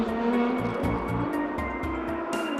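A tuned 800-plus horsepower Nissan 35 GT-R runs on the Fuji track with its engine struggling to rev, a droning note broken by a stuttering series of regular dropouts.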